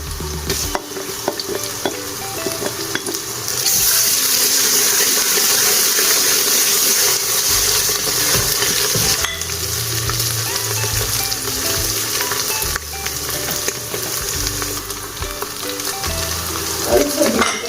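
Loud, steady frying sizzle of garlic ginger paste in a pan with browned onions, with occasional stirring scrapes, continuous throughout with no talking.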